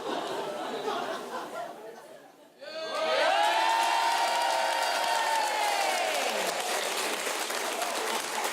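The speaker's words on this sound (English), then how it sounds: "I think we should give him a big round of applause when he comes back." Applause and cheering from a quiz show studio audience welcoming a contestant back, starting after a brief lull with crowd chatter and swelling into full clapping, with a loud sustained whoop rising above it that trails off as the clapping continues.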